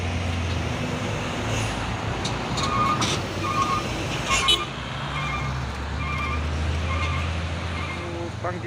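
Trucks roll past on a road, among them a CPO palm-oil tanker and a Siba Surya VW trailer truck, a steady engine and tire rumble with a brief horn toot, heard from a vehicle with people talking over it.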